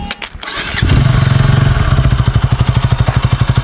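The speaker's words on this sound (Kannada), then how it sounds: "ಇಗ್ನಿಷನ್ ಆನ್ ಮಾಡ್ತೀನಿ, ಸೌಂಡ್ ಹೆಂಗಿದೆ ಅಂತ ಕೇಳಿಸ್ಕೊಳ್ಳಿ." KTM Duke 160 motorcycle engine cranking and firing up, then settling into a loud, close, rapid and even single-cylinder idle pulse, with no voices.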